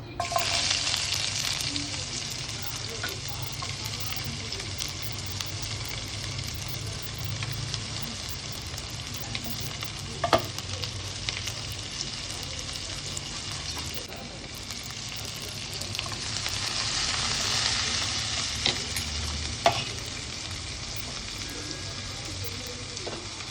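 Chopped onions fry in an oiled pan with a continuous, close hiss that swells and eases over time, broken by occasional sharp clinks of stirring.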